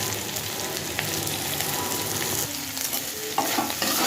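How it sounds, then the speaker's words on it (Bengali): Ginger and chopped tomato fry in hot oil with a constant dense sizzle, broken by occasional spoon scrapes and clinks near the end, close and steady, with no voices. "আদাটাকেও ভেজে নেবো এরপর দিয়ে দেবো টমেটো কুচি"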